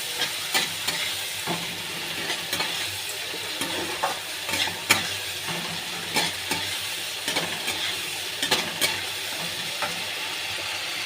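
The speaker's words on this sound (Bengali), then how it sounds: "এবার আমি আদা রসুনের পেস্টটা দিয়ে দেবো, দিয়ে একটু ভালো করে নেড়ে চেড়ে নেবো" Ginger-garlic paste frying in a pan for a Bengali bhola fish curry, with a steady hot sizzle and repeated scraping stirs at a quick, irregular pace, close and alone.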